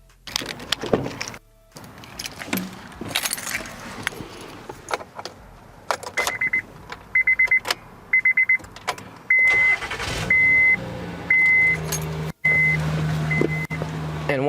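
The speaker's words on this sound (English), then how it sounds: "And now we gotta quickly go in and start the car." A car engine cranks and fires up after a portable 20000mAh lithium jump starter and air inflator is connected, with keys jangling, beeping tones from the starter unit, and a steady low engine hum settling in once it runs.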